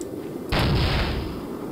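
A cannon fires in the video game Soldier of Fortune: one sudden loud boom that rolls on into a long, sustained roar.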